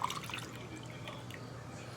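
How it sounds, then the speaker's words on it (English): A drink poured into a glass, a soft continuous liquid trickle with light dripping, close and moderate in level, no voices. "let me go ahead and pour this in my glass"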